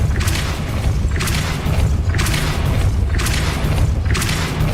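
Depulso spells cast in the video game Hogwarts Legacy, heard as four evenly spaced heavy booming blasts with bright crackling tails over a constant low rumble, loud and close.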